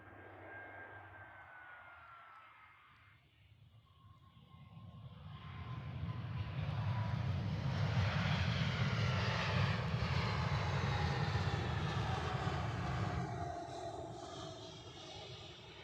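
An EasyJet airliner landing at Zurich Airport rumbles in from a distance, building into a loud close jet roar as it passes, then fading away, with no voices.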